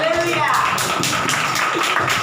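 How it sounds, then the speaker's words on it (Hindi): A church congregation claps in a steady rhythm, roughly four claps a second, loud and continuous beneath a voice. "बजाओ ना ताली यीशु को।"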